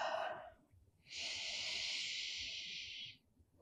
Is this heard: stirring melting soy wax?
no